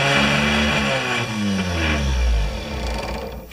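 A small engine revs up and down in a continuous, loud drone that rises and falls in pitch, heard close with no voices.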